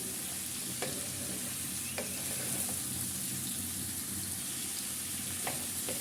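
Mixed vegetables fry in a pan with a steady, dense sizzle throughout, broken by a few sharp scrapes and taps of a spoon stirring. No one talks.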